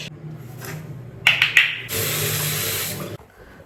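Running tap water during a face wash, starting with a few splashes and then a steady close rush from the faucet for about a second before cutting off abruptly, with no talking.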